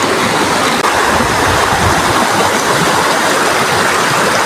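A river flows in a constant loud rush, steady broadband water noise close by with no break across the clip.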